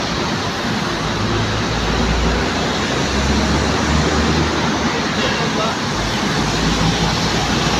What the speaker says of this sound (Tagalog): Grabe po yung traffic.